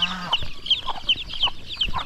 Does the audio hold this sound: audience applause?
no